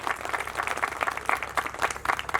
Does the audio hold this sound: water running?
no